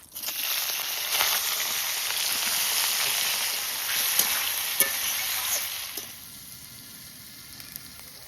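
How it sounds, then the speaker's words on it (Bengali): Freshwater prawns drop into hot oil tempered with whole cumin and bay leaf over a wood-fired clay stove, producing a loud close sizzle with spitting crackles that eases to a quieter fry. "গরম তেলে গোটা জিরে আর তেজপাতা ফোড়ন দিচ্ছি তেলের মধ্যে একটু লবণ দিচ্ছি এবার চিংড়ি মাছ দিয়ে দিচ্ছি"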